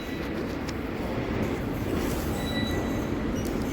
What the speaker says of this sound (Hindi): मेट्रो आ गई अपनी, बैठने जा रहे हैं मेट्रो में।